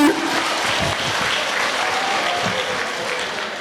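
Sustained applause from a gathered crowd at a meeting of Oyo State transport union groups, a dense steady clapping that fills the whole stretch at even loudness, with a few louder claps standing out near the start.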